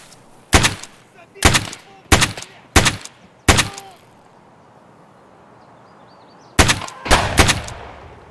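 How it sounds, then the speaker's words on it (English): Gunfire in Escape from Tarkov aimed at the player, a series of loud sharp shots in a spaced rhythm, five single cracks followed after a pause by a quicker burst of three, each with a short echoing tail. "What's this guy shooting at me from?"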